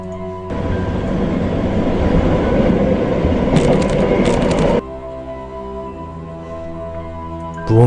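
A commuter train rattles and clatters along the tracks, a loud, dense roar with rhythmic metallic clanking that drops abruptly to a quieter rumbling hum partway through, with no talk over it.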